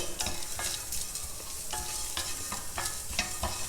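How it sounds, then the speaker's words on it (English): Chopped onion sautés in a dry pan with no oil, and close stirring scrapes and rustles repeat in a quick irregular rhythm over a steady sizzling hiss. "Now we will saute the onions also like this in a dry pan only, without adding any oil"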